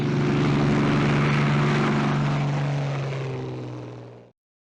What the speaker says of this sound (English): it's a bit noisy, so I'm going to wait for the helicopter to go before I carry on